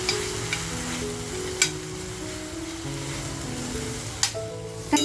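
Dried prawns (karandi) sautéed in a pan give a steady, even sizzle with light stirring, broken by a few sharp scrapes of a spatula against the metal.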